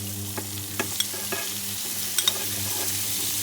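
Porcini mushrooms cook in a pan with a steady close sizzle, broken by a few light clinks and stirring taps, with no talking over it.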